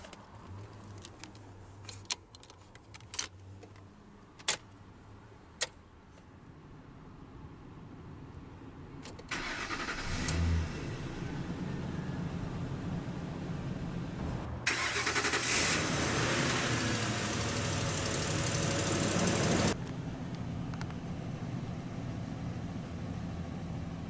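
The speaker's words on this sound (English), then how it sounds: "let's go ahead and start the engine." A 2005 Ford F-350 Super Duty pickup engine cranks and catches around the midpoint, settling into a steady idle with a brief louder surge; earlier, faint clicks and handling noises.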